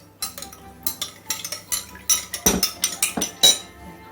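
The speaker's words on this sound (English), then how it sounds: "I'm just going to stir your yoghurt and milk while you're doing it" A spoon stirs yoghurt and milk in a bowl for savoury cheese scones, tapping and clinking against the side in a quick, uneven series of close, distinct scrapes and chinks.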